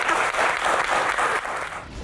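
An audience at a doctors' Q&A session applauds for a doctor, a steady, dense wash of clapping that holds evenly throughout at close range.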